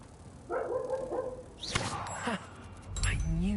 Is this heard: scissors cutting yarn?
no